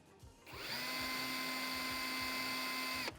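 Festool CXS18 18V cordless drill driver spinning at torque setting 1, a steady high whine that starts after a brief pause and holds evenly for under three seconds before cutting off, close and alone without talk.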